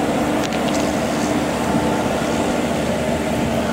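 WAP-4 electric locomotive hauling an Amritsar train, standing at a station platform, giving off a loud, steady mechanical hum and rumble without pause.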